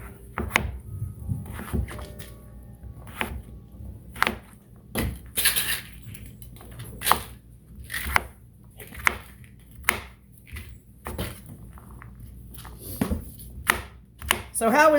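Knife slicing through a chimichurri steak on a board, a series of irregular thunks and cuts, close, with a steady hum underneath.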